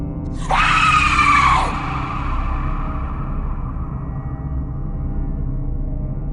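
A single loud, shrill scream lasts about a second, then trails off into a low, dark rumbling drone.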